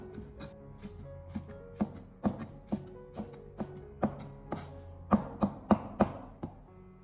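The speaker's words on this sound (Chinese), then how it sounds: "最後再將其改刀切成小朵" Knife chopping white fungus (tremella) into small pieces on a cutting board, a series of crisp, close taps at an uneven, brisk rhythm, about twenty strikes with no talking.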